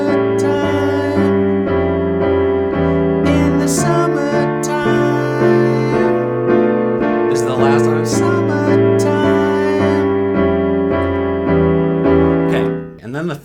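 Piano chords from a song ring out with the sustain pedal down, steady chord changes running continuously while a voice sings and speaks along over the playing, the sound dropping off at the very end.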